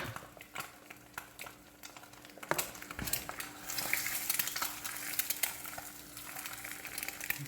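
Eggs frying in a hot pan on a home stove, a steady crackling sizzle with occasional scrapes and stirring clicks, cooking too fast, heard close and fairly quiet without talk.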